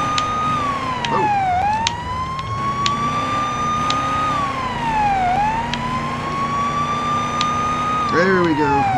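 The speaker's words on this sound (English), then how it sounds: "I'm going to shut the siren off." A police car siren wails in a police simulator video game on Xbox Series S, a loud continuous rising-and-falling tone cycling slowly, with a brief yelp burst near the end.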